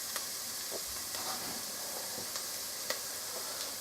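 Spaghetti bolognese sauce sautéing over low heat in a pan, giving a steady broadband sizzle and hiss with faint occasional stirring clicks, close and continuous with no talking.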